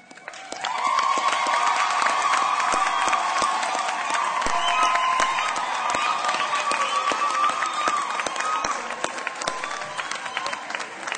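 Sustained applause from a university graduation ceremony audience, a dense steady wash of many hands clapping that swells in within the first second and holds loud for about ten seconds, with scattered cheers and a few shouts mixed in.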